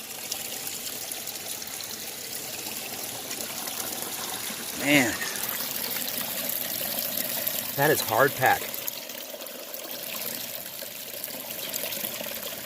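Creek water trickling and flowing at a crossing of a creek in a desert wash, a steady low stream under a man's speech, with a few brief louder splashes.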